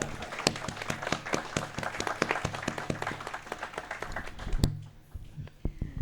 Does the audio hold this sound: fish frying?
no